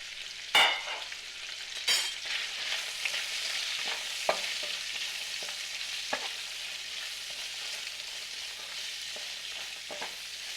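Slivered carrots, trimmed green beans and whole peas stir-fry with garlic in a hot pan, sizzling steadily and close, with a couple of sharp clanks from the start and a few light stirring taps.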